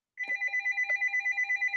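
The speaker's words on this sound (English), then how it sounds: "Did the phone really just ring?" A telephone rings with a rapid, evenly pulsing electronic trill, steady and moderately quiet, heard alone without talk.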